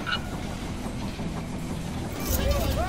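Arriving train in the strategy game They Are Billions, a steady rumbling rail clatter that swells louder near the end, with game chimes and voice alerts layered over it.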